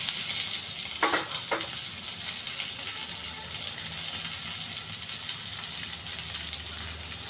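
Ivy gourd frying in a pan with chillies, curry leaves, garlic and chana dal, giving a steady close sizzle that stays level throughout, with a couple of brief clinks near the start.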